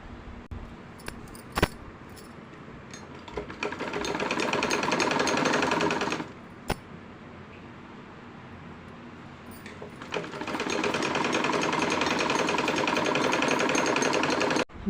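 A sewing machine stitches a folded two-inch fabric strip in two bursts of fast, steady mechanical whirring, separated by a quiet pause with small clicks and handling noises, close and clear with no talk.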